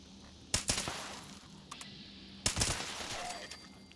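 Automatic weapon fire in the video game Fallout 76, two sharp bursts of rapid shots with a few lighter pops between them, loud against a quiet background, with no speech.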